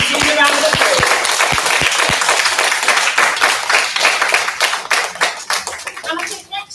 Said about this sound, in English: Let's put our hands together and give those 14 children a massive Zaytouna round of applause.